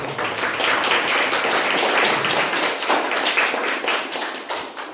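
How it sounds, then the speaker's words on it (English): Steady applause from an audience at a Toastmasters club meeting, dense clapping that fills the whole stretch at an even, fairly loud level before tapering slightly at the end. "I would like to hear a round of applause for the speaker as well."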